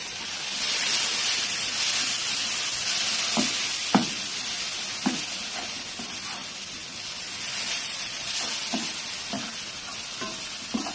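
Pepper-and-salt seasoned chicken pieces frying in a pan, a steady loud sizzle with a high hiss, punctuated by several sharp scrapes and taps of a utensil stirring.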